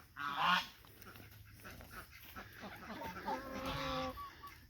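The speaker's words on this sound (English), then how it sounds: "And geese are loud as ever." Geese honking loudly on a damp farm morning, a burst of close, harsh honks at the start and another cluster near the end, with softer clucking fowl and someone speaking in between.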